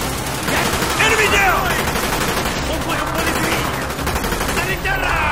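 Sustained bursts of automatic gunfire in the video game Call of Duty Black Ops, loud and dense throughout, with rapid overlapping shots and a soldier's voice calling out over the firefight.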